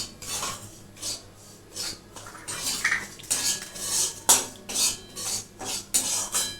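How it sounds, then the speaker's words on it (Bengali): Semolina stirred in a metal kadai for a sweet made with bread and milk powder: a steady run of scraping, rasping strokes of a spoon against the wok, close and fairly loud, with no speech. "কড়ার মধ্যে নাড়বো।"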